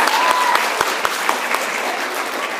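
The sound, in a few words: audience applause at school band concert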